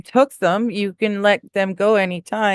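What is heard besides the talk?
None of the usual background noises is heard.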